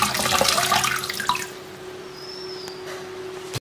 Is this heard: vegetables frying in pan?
no